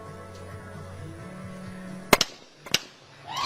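Shotgun blasts ring out at a junior world skeet shooting championship in Changwon, two sharp close reports with smaller echoing shots, standing out over a quiet steady hum before a rising crowd noise begins.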